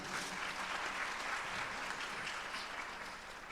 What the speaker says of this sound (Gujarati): તાળીઓથી ગડગડાટથી વધાવીએ